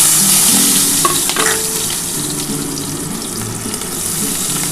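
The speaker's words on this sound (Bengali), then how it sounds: "এই তেলের মধ্যে আমি একটা শুকনো লঙ্কা দিয়ে দিলাম" A dried red chilli, broken green chillies and black cumin fry in hot oil with a dense, continuous crackling sizzle, close and steady throughout, with a few faint clinks underneath.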